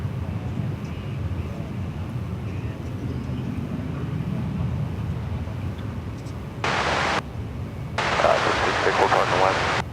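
American Airlines flight 1190 at DFW Airport, a steady low jet rumble running through the whole stretch, with two bursts of broadband hiss near the end as the noise swells louder.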